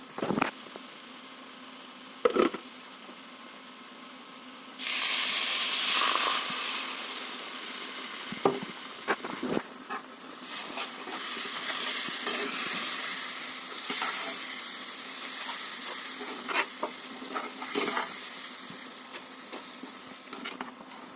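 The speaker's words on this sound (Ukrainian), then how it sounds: "Далі я заливаю це все молоком." Milk poured onto hot fried flour and cocoa in a pan, a loud burst of sizzling after sharp utensil knocks, then steady frying hiss with repeated stirring scrapes and clinks throughout.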